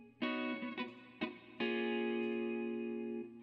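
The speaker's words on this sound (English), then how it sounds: "It's like a little reverb delay thing." Layered synth tones from a Maschine beat project, shaped by a reverb-delay effect: several struck notes followed by one long sustained chord that rings out with a dense, smeared tail, loud and alone.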